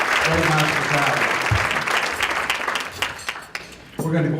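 Applause from the crowd at a healthcare task force meeting in Rome, Georgia, thinning toward the end, with a speaker's voice audible at the start and again as the clapping fades.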